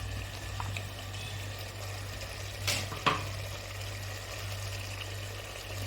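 Ground coconut, garlic and cumin paste is poured into a pan for a curry. Two short, wet splashing gushes come close together, with a steady low stove hum underneath.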